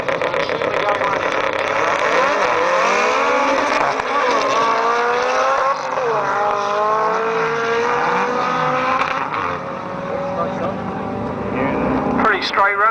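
A drag racing car at Ruapuna makes a straight run, its engine roaring continuously and loudly as it rises through the gears, heard from nearby over a long sustained pass.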